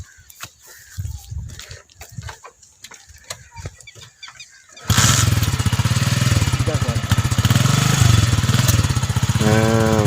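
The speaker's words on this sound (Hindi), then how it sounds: "ये सरफराज साहब बैठ रहे हैं मोटरसाइकिल पे।" Motorcycle engine runs at close range in a rural Punjab setting, loud steady chugging that starts abruptly halfway through after quieter moments with someone talking.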